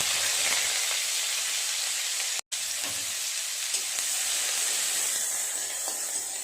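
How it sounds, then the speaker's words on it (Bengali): Chopped onion frying in oil produces a bright, constant sizzle and hiss up close, with occasional stirring knocks and a brief dropout midway. "পেঁয়াজটা নেড়ে চেড়ে ভালো করে ভেজে নেব"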